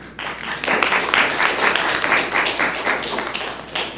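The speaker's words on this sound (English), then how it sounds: "We get claps" Applause at a county board of commissioners meeting, a steady few seconds of clapping from a modest crowd in a room, fairly close, swelling at the end.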